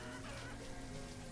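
Chickens in a pasture in the medieval town-building game Banished give a faint, steady clucking murmur that runs continuously under a soft, rain-like background hiss.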